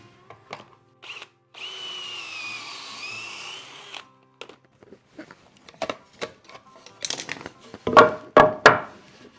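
A power drill bores pocket holes through wood clamped in a Kreg pocket-hole jig, a steady whining run of about two seconds followed by scattered clicks, knocks and clamp adjustments close by.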